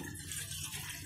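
A glass of water is poured into a pot on a lit stove while preparing a herbal kashayam, giving a brief, continuous splashing rush close by.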